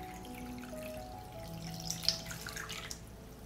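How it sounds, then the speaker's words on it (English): Hot water poured into a pot holding glass jars sitting on a cloth, a soft steady trickle with a few faint splashes, quiet and close. "I pour hot water into the pot up to the height of the lid."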